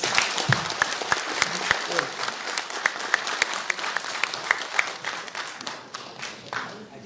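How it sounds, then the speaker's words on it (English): Audience applause for a speaker at an oil and gas forum, a fairly faint, continuous patter of many hands with a few sharper individual claps standing out, lasting throughout. "Round of applause"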